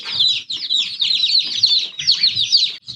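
Newly arrived baby chicks peep constantly in a dense, high-pitched chorus of overlapping chirps, close and loud.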